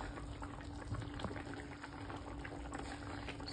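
Hilsa fish curry bubbles steadily in a pot, a continuous close simmering gurgle with no talk over it.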